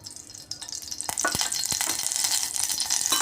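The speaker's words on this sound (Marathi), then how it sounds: "तेलामध्येच आपण हिंग, मोहरी आणि जिरे, कढीपत्ता घालून घेणार आहे." Asafoetida, mustard seeds, cumin and curry leaves hit hot oil in a pan, a sharp sizzle that quickly swells into a dense, steady crackle, with a few spatula clinks nearby.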